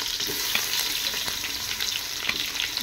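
Onions and green chillies fry with whole spices such as cinnamon, cloves and cardamom in a pot for a vegetable biryani, giving a steady close sizzle with faint stirring scrapes and small crackles.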